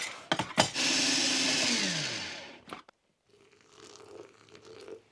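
Electric grinder milling freshly home-roasted coffee beans, a loud whirring grind for about two seconds that winds down in pitch as the motor stops, preceded by a few sharp clicks and followed by faint rustling.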